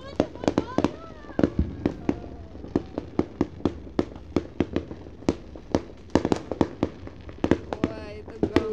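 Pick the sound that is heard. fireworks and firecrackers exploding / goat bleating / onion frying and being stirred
fireworks and firecrackers exploding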